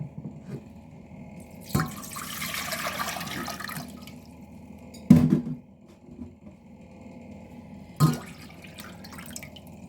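Water pours into a cooking pot, about one and a half litres, for homemade smoked-style mackerel, with a steady rushing splash lasting a couple of seconds, followed by a few sharp knocks and drips in a quiet kitchen.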